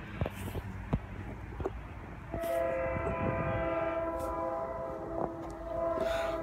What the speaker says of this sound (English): Oh, it's an F-40.